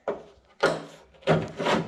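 The old, crusty door lock mechanism of a Toyota FJ40 slides out through the door hole in three short, scraping metal-on-metal bursts, close and fairly loud.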